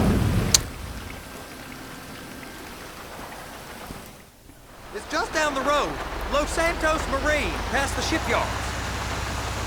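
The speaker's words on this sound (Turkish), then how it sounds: "Ne yağmur yağdı be maşallah" Steady hiss of heavy rain in the video game GTA 5 with a realistic graphics mod fills the scene, with a sharp crack early on; voices then talk over the continuing downpour.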